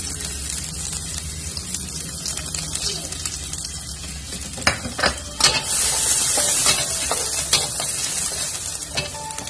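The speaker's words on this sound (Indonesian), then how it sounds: "kita mulai tumis bawang merah." Shallots sautéing in a pan of oil for kencur fried rice, a steady close sizzle and crackle with stirring and scraping that swells louder partway through, no talking.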